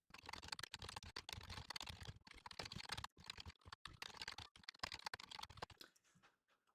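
Steady, rapid clicking of a computer keyboard as code is typed out in Rust, keystrokes coming in dense bursts with short pauses, close and alone, tapering off near the end.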